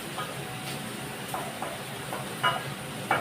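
Sliced onions sauté in a pan for Kerala fish molee, a soft, steady sizzle close by with a few light scrapes of a spoon stirring through.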